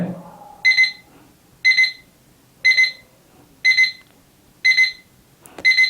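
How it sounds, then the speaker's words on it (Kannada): A Bulfyss digital alarm clock beeps in short, shrill clustered bursts repeating about once a second, six in a row, crisp and close against a quiet room. "ಇದು ಸ್ಟಾರ್ಟಿಂಗ್ ಏನು ಮಾಡುತ್ತೆ ಅಂದರೆ ಫಸ್ಟು ಲೋ ವಾಲ್ಯೂಮಿಂದ ಸ್ಟಾರ್ಟ್ ಆಗುತ್ತೆ, 1 ಬೀಪ್ ಸ್ಟಾರ್ಟ್ ಆಗುತ್ತೆ."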